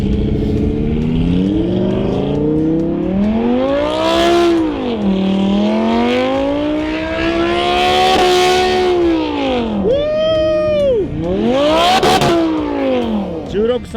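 A Lamborghini engine revs hard during a drift, its pitch climbing and falling in repeated sweeps. The car sounds close and loud, and people talk over it.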